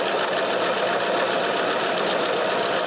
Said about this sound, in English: it makes a bar tack first, and then it starts sewing on one side.